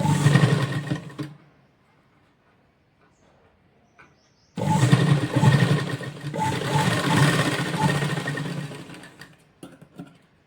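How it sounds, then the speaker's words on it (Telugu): A sewing machine stitches a double-layer lehenga in two close whirring runs, a short one, then a pause of near silence, then a longer steady run that fades out. "చూసారు కదా ఎలా స్టిచ్ చేస్తున్నాను."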